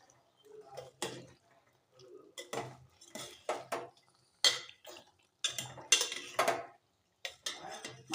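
A lid clatters and a spoon scrapes repeatedly against a pot of mutton and boiled potatoes, bursts of metallic clinks and scraping in irregular strokes with short quiet gaps, close and fairly loud.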